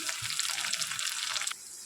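Onions and chopped tomatoes frying in a hot wok give a steady, close hiss of sizzling that holds broadly, then drops slightly in intensity near the end, with no voices.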